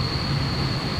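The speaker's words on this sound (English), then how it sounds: "It seems like there's a train coming on track 6." A Yakumo train pulling in on track 6 at a Japanese railway station, a steady close rumble of wheels and running gear with a thin high whine held through the brief moment.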